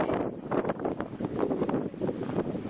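Wind blows outdoors above a bay with yachts and islands, giving a constant rough rush and buffeting that stays steady across the whole stretch with no voices.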